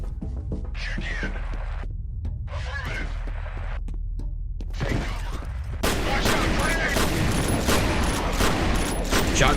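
Video game gunfire from FEAR or BioShock: sharp blasts burst over a constant low hum, growing denser and louder in the second half as rapid shots pile up, with no speech over them.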